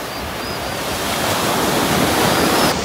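Steady roaring surf at Mismaloya Beach south of Puerto Vallarta, close and loud, with wind buffeting the microphone and no voices.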